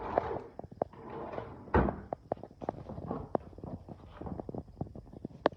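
Drawers in a secondary bathroom are pulled open and pushed shut repeatedly, giving a string of sharp knocks and slides that sound close and fairly loud.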